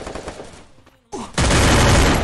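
Gunfire in a 4v4 competitive shooter match, first a brief quieter stretch and then a loud, dense burst of rapid shots filling the last second.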